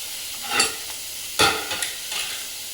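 Turnip and fenugreek bhurji roasts in a pan with onion, ginger, garlic and green chili, a low frying sizzle under several loud scraping stirs of a spoon against the pan, with no talk.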